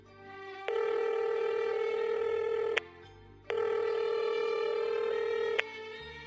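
A phone rings twice in long electronic bursts, each about two seconds, separated by a short pause, loud and clear with nothing else around.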